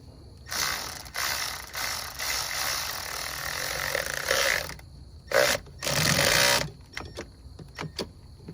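A hand ratchet with a swivel clicks rapidly while loosening valve cover bolts on a 2006 Chrysler Town & Country, in several bursts of steady clicking separated by pauses, ending in a few isolated clicks, close and clear.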